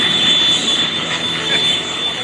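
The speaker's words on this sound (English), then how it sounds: "On the takeoff roll now. This is the Pitts biplane." Pitts biplane engine roaring steadily through its takeoff roll at the 2024 MCAS Cherry Point air show, a loud, continuous drone with crowd-area broadband noise and a narrator's voice over it.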